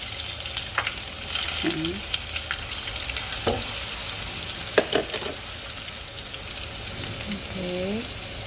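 Garlic sautés in hot oil in a pan already holding ginger, a steady crackling sizzle with occasional utensil clinks and stirring, while a voice speaks briefly.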